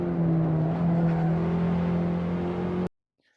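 A BMW race car on the Rockingham circuit drones along with a steady, buzzing engine note at constant speed, loud and close, then cuts off abruptly to silence near the end.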